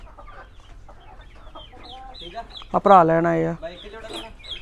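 A pair of farm chickens, a rooster and a hen, let out one loud, close clucking burst near the middle, with someone talking before and after it.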